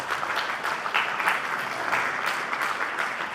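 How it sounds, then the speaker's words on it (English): Audience applauds steadily at a policy event on the Taiwan Relations Act anniversary, a dense even patter of many hands clapping throughout with no pauses. "I know the applause was for dinner, but I'll take it anyway."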